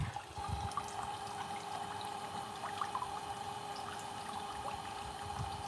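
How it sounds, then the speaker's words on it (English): Garden plants in pots being watered, a steady pouring, splashing stream of water running continuously and fairly close, with faint background hum and no talking. "And I'm gonna give these a good water."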